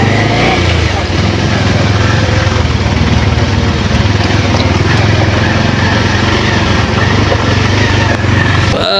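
A motorcycle riding through thick grass in a jungle, its engine a loud, steady, close drone that holds without a break.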